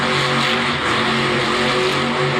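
Monster truck engine revving hard and steady as it spins through a donut at a Monster Jam arena event in Orlando, a loud continuous roar with a rough harmonic drone and no voices.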